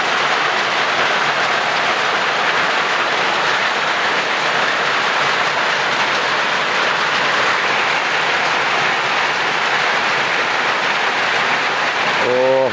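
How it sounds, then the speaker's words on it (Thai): Steady, dense rain pours down in a continuous hiss, loud and unbroken throughout, with a faint tonal sound creeping in at the very end. "โดนฝนอีกแล้วพี่น้อง"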